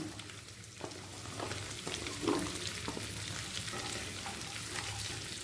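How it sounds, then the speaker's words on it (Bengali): Onion fries in a pan with ginger, garlic and green chilli for chilli paneer, a soft, even sizzle with occasional stirring scrapes, fairly quiet and with no talk. "পেঁয়াজটাও দশ সেকেন্ড ভেজে নেব"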